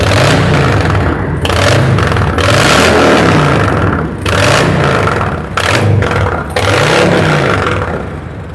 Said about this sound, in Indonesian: Ya, kita gas sekali lagi.